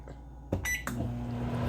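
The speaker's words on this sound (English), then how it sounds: "I'm going to put time on the microwave." A microwave oven hums steadily after a few quick beeps and clicks from its keypad as the timer is set, the low drone running on alone to the end.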